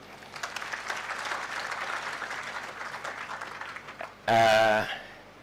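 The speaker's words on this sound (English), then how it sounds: "The board of directors, a round of applause for them" Audience at a college commencement ceremony applauding the board of directors, moderate clapping that builds and fades before a short loud burst of amplified speech near the end.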